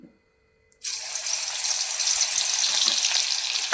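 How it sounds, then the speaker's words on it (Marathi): Garlic and coriander drop into two spoonfuls of hot oil, and after a near-silent start a loud, close, bursting sizzle takes over and holds steadily to the end. "लसूण कोथिंबीर चांगलं फ्राय करून घ्या"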